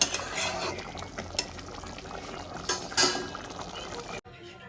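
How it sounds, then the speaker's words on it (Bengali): Food boils in a cooking pot with a steady bubbling, sizzling wash and occasional louder pops and clinks, close by and under a voice, then cut off abruptly near the end. "ভালো করে একটু ফুটতে দেবো।"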